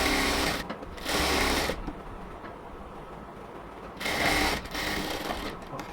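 A sewing machine stitches a yellow cotton dress in two loud bursts of whirring, each about a second long, with a quieter mechanical hum between them.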